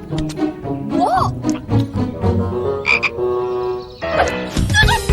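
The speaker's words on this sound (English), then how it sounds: "There's a frog in my trousers!" A frog croaks in a cartoon scene, giving a series of loud, close, rhythmic croaks mixed with other bursts of sound.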